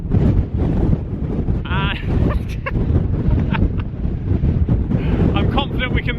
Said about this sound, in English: It's really bloody windy